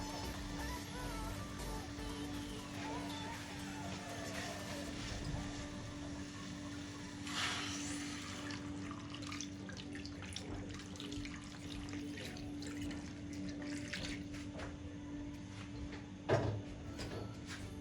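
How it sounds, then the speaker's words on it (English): Water from a tap running into a pot to cook yam for ugba sauce, a steady quiet stream with faint kitchen clatter and one brief knock near the end, no voices. "And then I'll add in my water to cook this yam."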